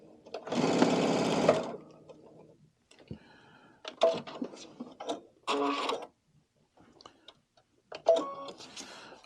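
A Brother sewing machine with a drop-in bobbin stitches a seam in a few quick whirring bursts, the first longest, with quiet gaps and small clicks between runs.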